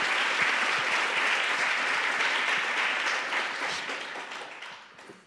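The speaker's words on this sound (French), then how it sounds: "On applaudit, merci." An audience claps steadily, a dense, full round of applause that gradually tapers off toward the end.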